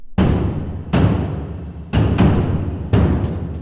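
Layered acoustic trailer percussion from a world ensemble, four big hits landing about a second apart, each pairing a sharp high stick whack with a deep low thud that rings out. Close, loud and heavy, with no voices.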